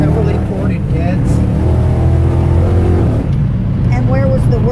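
A 1967 Pontiac Le Mans V8 bored and stroked to 467 with a high-lift cam and ported heads, rumbling and revving loudly and steadily close up, with someone talking over it.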